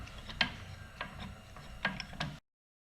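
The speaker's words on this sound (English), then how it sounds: "use a spring compress tool and compress the spring" A spring compressor tool being tightened on the front shock spring of a 2016 Scion tC, giving four or five separate metallic ratcheting clicks, close up and fairly quiet against a faint background.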